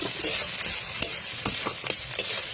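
Chopped onions and garlic frying in about two tablespoons of hot oil make a bright, continuous close sizzle, with irregular spatula scrapes and knocks against the pan and no voices.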